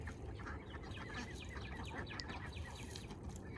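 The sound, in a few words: ducks on a homestead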